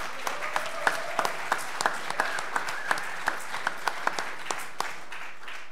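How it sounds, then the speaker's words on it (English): Thin, scattered applause in a Princeton Reunions lecture hall, a modest number of audience members clapping at a steady pace, fairly distant with light background murmur. "As some of you just proved with that very generous and kind applause"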